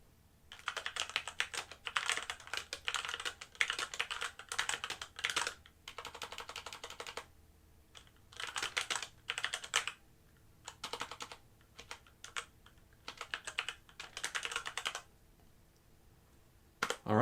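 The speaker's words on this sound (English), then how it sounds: "the bad typing is user error" Fast typing on a computer keyboard attached to a color e-ink all-in-one PC monitor, with close, crisp key clicks in bursts separated by short pauses.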